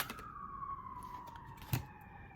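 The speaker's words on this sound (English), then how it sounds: "I hear the sirens" A siren wails in a long descending tone at a distance, with a brief sharp knock near the end and faint background noise.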